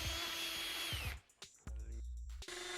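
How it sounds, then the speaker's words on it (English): A power drill fitted with a 16mm auger bit bores through a wooden door for a lever-handle spindle, running in a loud whining burst, then pausing before a second, steadier stretch of drilling. "Using your drill and 16mm auger bit, drill holes through the door for your handle spindle"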